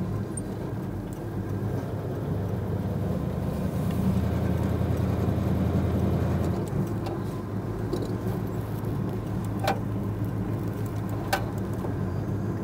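A 1965 Ford Ranchero with a small block engine accelerates, its low, steady engine drone swelling and holding before easing back, heard from inside without talk.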